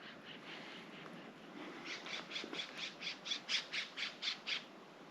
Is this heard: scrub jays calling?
yes